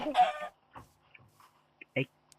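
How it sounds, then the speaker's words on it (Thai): Minecraft chicken clucks come in short bursts, quiet and clipped, with brief pauses between them and a voice at the start. "ไก่น้อย"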